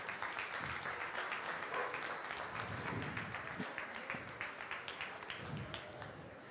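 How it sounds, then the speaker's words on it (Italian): Audience applause at a 2012 event in Messina, Sicily: dense, steady clapping from a sizeable crowd that carries on throughout, thinning slightly toward the end. "un applauso."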